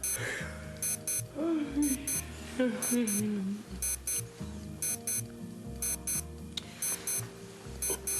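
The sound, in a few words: alarm clock ringing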